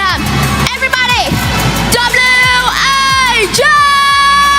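Arena crowd at the Free Fire World Series SEA 2024 grand final cheering and whooping loudly, layered under booming music and an announcer's amplified voice throughout.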